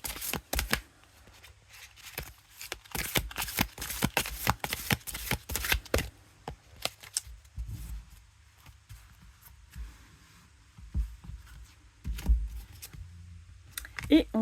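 An oracle card deck is shuffled by hand in quick riffling bursts, then a card is drawn with a few softer taps and slides, all close up and with no voice.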